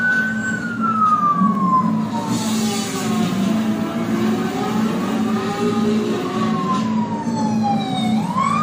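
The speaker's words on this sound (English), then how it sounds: "I'm in an ambulance, one of those new autonomous ones." A new autonomous ambulance's siren wails loudly and close by, sweeping slowly up and down in pitch over a continuous low vehicle rumble.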